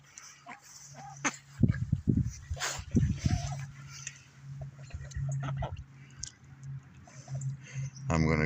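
A dog on a farm with chickens gives a few sharp barks close by, mixed with clucking fowl and a steady background hum.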